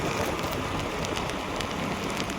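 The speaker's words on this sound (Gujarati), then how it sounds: "એક તો બધી બાજુ વરસાદ" Rain pours down on all sides in a loud, continuous broadband hiss with dense patter and no pauses, out in the open near Talaja in Gujarat.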